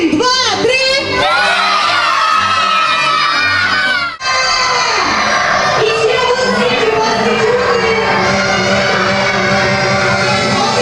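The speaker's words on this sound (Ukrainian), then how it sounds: "Давайте на рахунок три дуже голосно будемо кричати своє ім'я для нашого Санти." A crowd of children at a shelter holiday party with Saint Nicholas loudly shout their names in unison, a sustained, cheering roar of many young voices that briefly dips and then swells again.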